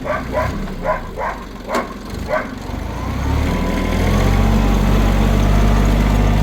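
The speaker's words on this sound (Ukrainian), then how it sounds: "Отак працює плуг наразі." Tractor pulling a plough through a neighbour's field, opening with a string of sharp rhythmic knocks before the engine swells into a loud, steady drone that stays close and fills the rest of the clip.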